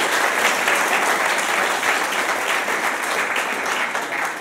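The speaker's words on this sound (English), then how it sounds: "Give them all a round of applause." Dense, steady applause from a church congregation fills the space, loud and continuous without a break, slowly easing toward the end.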